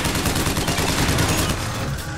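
Dense, continuous enemy gunfire in Bioshock Infinite on 1999 difficulty, a loud sustained barrage of shots filling the whole moment without pause.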